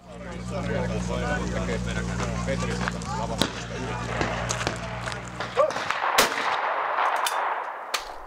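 Shotgun shots ring out at a trap shooting competition, a few sharp cracks scattered across the clip under steady low rumble and a voice talking.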